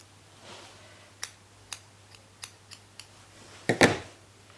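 Scissors trimming needle-felted wool, giving about seven crisp, separate snips at a slow and uneven pace, then a louder double cut at the end, all close up in a quiet room.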